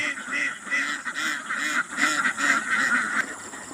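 A flock of ducks being given vitamins, quacking continuously and overlapping at close range, a busy chorus of nasal calls with no pauses.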